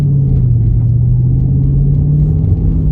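A 2020 Dodge Charger Scat Pack widebody in eco mode gives a steady, loud low engine drone, close by and holding an even pitch with no sharp revving throughout.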